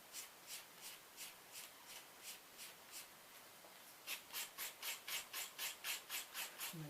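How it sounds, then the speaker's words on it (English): A 100-grit nail file rasps back and forth across an acrylic nail enhancement, about fourteen rhythmic strokes: soft and close at first, then noticeably louder and sharper in the second half, with no voice. "keep stroking across your nail with the file. I'm using the 100 grit side."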